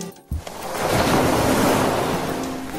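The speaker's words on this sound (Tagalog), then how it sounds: "Una nilang nakita si Maki na nasa dagat at nagsusurfboard" Ocean surf roars in a broad, loud wash of breaking waves in an anime scene of someone surfing at sea, swelling after a brief thud and then slowly easing.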